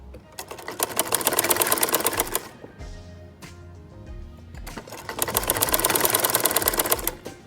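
An electric sewing machine stitches a kurta in two long bursts of rapid, steady needle chatter, close and loud, with a quieter pause between them where the fabric is repositioned.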